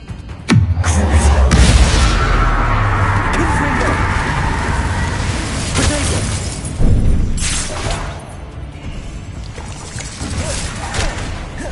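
The Bombarda blasting spell explodes in Hogwarts Legacy with a loud, close, rumbling blast that keeps roaring with crackling debris for several seconds, followed by a second, smaller burst.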